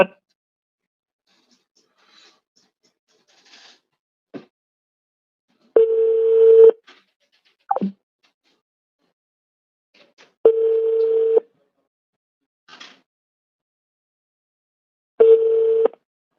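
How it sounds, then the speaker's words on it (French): A telephone dial tone sounds in three steady bursts of about a second each, separated by silence, with faint clicks and a brief sliding beep between them. "on a appelé Daouda, quoi"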